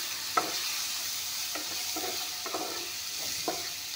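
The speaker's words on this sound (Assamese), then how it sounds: "বিলাহীখিনি অলপমান ভালকৈ ভাজি ল'ম।" Chopped tomatoes sizzling in a pan of oil with turmeric for a moong dal tarka, a steady close hiss broken by a few sharp scrapes and taps of stirring, with no talking.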